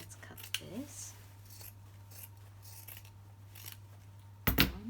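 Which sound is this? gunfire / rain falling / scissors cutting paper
scissors cutting paper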